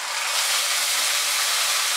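Onion paste dropped into hot spiced oil in a pan for Bengali rajma curry, a dense steady sizzle and hiss filling the short moment, close and even with no voices.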